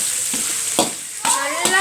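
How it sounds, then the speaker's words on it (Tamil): Shredded cabbage stir-fried in a pan for nasi goreng: a close, steady sizzle broken by a few sharp spatula scrapes and tosses. "நல்லா வதக்கிக்கிறோம்."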